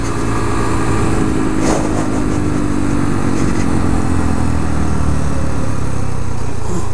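A 2014 Honda Grom motorcycle's small single-cylinder engine buzzes steadily under load while riding, loud and near, with a brief rustle partway through and the drone holding throughout.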